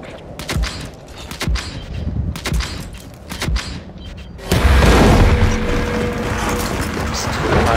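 Grenades go off during a competitive esports shooter match: sharp mechanical clicks and taps lead to a loud, booming blast midway, followed by a sustained, heavy rumble.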